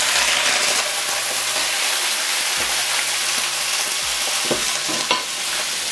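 Raw, unblanched chicken pieces stir-fry in hot oil in a wok for chestnut braised chicken: a steady, close sizzle runs throughout, broken by scraping spatula strokes and a few sharp knocks against the pan.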